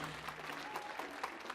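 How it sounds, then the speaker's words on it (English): A stage-performance audience applauds steadily in a hall, a faint, distant wash of clapping with no talk over it. "Give him a round of applause."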